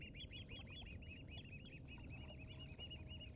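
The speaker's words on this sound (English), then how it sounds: "the family of geese I shared the island with last night's finally leaving." A family of geese honks repeatedly in a busy overlapping chorus on an island at morning, steady and fairly close throughout with no talking.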